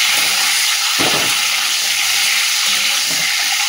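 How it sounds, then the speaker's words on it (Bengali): A boiled egg fries in oil with salt and turmeric, making a loud, continuous hiss and crackle, with one brief utensil knock partway through and no talking. "ডিমটা ভেজে নিই এদিকে"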